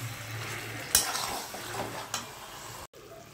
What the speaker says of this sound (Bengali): এরপর এর মধ্যে আমরা ভেজে রাখা ওই ক্যাপসিকামগুলো দিয়ে দিব। দিয়ে আর 2 মিনিট মতন ভালো করে কষিয়ে জল দিয়ে দিব।